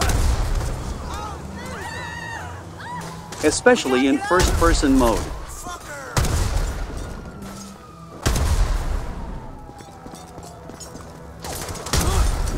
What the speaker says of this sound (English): Your every melee attack will make explosion.